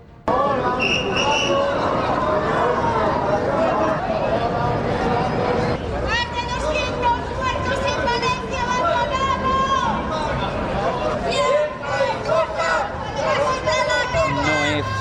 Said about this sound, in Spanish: Sánchez ha sido recibido entre pitos y abucheos nada más llegar al Congreso